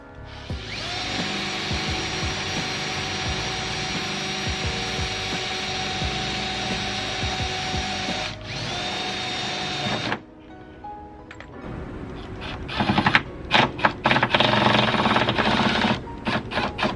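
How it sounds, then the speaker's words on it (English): A power drill whines steadily while boring into the front bumper of an Infiniti G37 sedan being fitted with a widebody kit, then stops and gives way to clattering handling noises. "I'm start drilling out the fronts."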